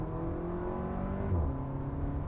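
A 2024 Porsche Macan T engine revving under acceleration, a steady, close cabin drone whose pitch climbs briefly and then drops as a gear changes.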